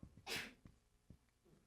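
A single sneeze bursts out sharply, then fades into quiet breathing-like noise and a couple of faint low thumps; no talking.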